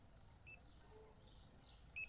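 Two short, bright electronic checkout scanner beeps from the Supermarket Simulator video game, about a second and a half apart, faint over a quiet low hum.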